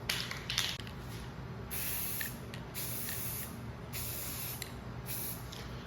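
Aerosol spray primer paint hissing steadily onto a plastic model kit, close and continuous in several long bursts with short pauses between them, no talking.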